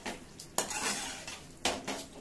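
Rice and biryani masala stirred in a kadhai with a spoon, giving two sharp metallic scrapes and clinks against the pan over a soft background hiss.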